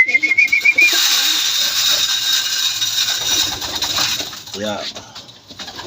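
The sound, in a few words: racing pigeons cooing after returning home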